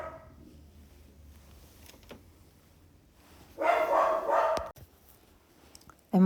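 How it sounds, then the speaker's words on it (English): A household dog barks in a short burst of several close, loud barks in the middle, with quiet room noise before and a brief loud sound at the end. "Sorry about my dog barking."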